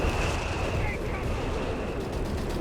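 Artillery and machine gun fire rage in a Company of Heroes 3 battle, Afrika Korps against British forces, as a continuous dense rumble of blasts and rapid shots that fills the short stretch with no pause.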